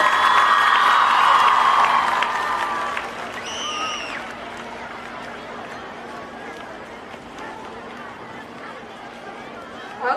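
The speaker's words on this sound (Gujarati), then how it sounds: "જોરથી તાળીઓ પાડો" Parents clap at a school annual concert at Auxilium Convent High School in Vadodara; the dense applause is loudest in the opening seconds, then thins into a softer crowd murmur with voices.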